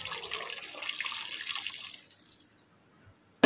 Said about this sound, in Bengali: জলটাকে ফেলে দিতে হবে